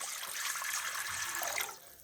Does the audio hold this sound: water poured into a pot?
yes